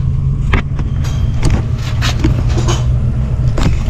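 An old car's engine runs steadily close by, a low continuous rumble with a few sharp clicks and knocks scattered over the four seconds and no speech.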